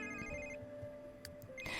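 A telephone rings in The Sims 3 video game, a short electronic ringing tone heard alone and fairly quiet, with no talk.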